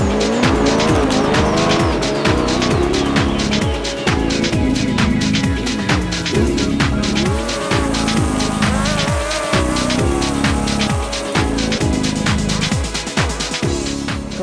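Sidecar grass track racing in a field in Essex, loud close engine revving in rapid rising and falling bursts with gear changes, continuous and aggressive throughout.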